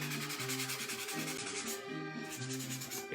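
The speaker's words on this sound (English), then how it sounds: "You can sand this stuff." Sandpaper rubbed by hand over craft foam, a steady scratchy sanding with rhythmic back-and-forth strokes, close and continuous for a few seconds with no talking.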